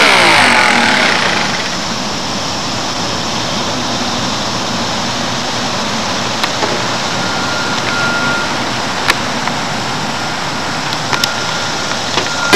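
A small engine running on 4-cycle fuel, a steady loud drone idling at a fairly slow, even speed, close by and continuous with no talking.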